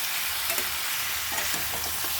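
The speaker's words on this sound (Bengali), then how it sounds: "এবার আলুর সঙ্গে তেলে এটা খুব ভালো করে একটু কষিয়ে নেব।" Potatoes frying in oil with ginger, garlic, onion, tomato, cumin and cardamom, a dense steady sizzle close up with faint stirring scrapes, no voices.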